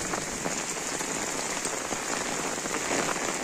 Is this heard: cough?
no